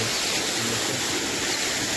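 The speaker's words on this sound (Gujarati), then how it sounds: "આ બંધારણનું પાણી કૂવામાં આવે છે." Water from a dam pours into a wide farm well 45 feet deep, a loud, steady rushing roar like a small waterfall that fills the whole stretch with no voices.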